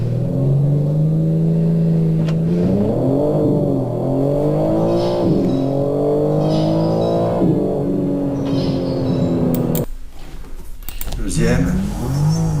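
A BMW M3 G80 from 2021 launching hard with launch control, its engine revving up loud and close in rising sweeps through the gears, with a sharp shift break near the end before pulling again.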